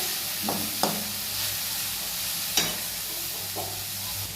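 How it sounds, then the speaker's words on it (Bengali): A momo filling of cabbage, carrot, onion, ginger, chilli and garlic fries in a pan with a steady hissing sizzle, and a few distinct spoon knocks and scrapes come at intervals, with no one speaking. "বাঁধাকপি, গাজর, একটু পেঁয়াজ আর আদা কুচি, লঙ্কা কুচি আর একটু রসুন কুচি দিয়ে পরে সমস্ত কিছু ভালো করে ভেজে নিচ্ছে"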